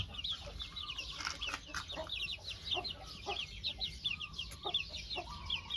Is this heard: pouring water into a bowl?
no